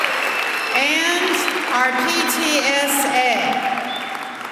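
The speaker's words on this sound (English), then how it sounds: "So give them a round of applause." Applause from an audience at a school kickoff event, steady clapping under a voice speaking over it, with whistle-like tones and crowd noise.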